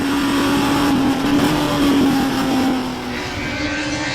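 WTCC 2008 touring race cars at Curitiba roar in a continuous loud engine drone, a sustained pitch holding steady before easing slightly as the cars pull away.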